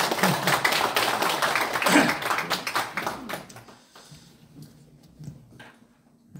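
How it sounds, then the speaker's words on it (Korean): A group claps hands in applause at a regional development council gathering, a dense burst of clapping that thins out and fades after about three seconds, leaving quiet room noise. "박수 한번 쳐드려요"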